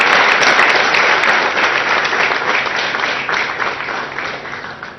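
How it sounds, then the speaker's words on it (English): Sustained applause from a workforce crowd at the Tata Boeing facility in India, marking production of the 100th fuselage; loud, dense clapping that fills the whole stretch and slowly tapers toward the end. "A big round of applause to all of you."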